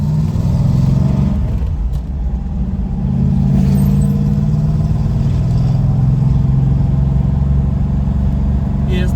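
A Dodge Challenger T/A 340 on the move, its engine a loud, steady, deep rumble heard from inside the car, swelling slightly at times without a break.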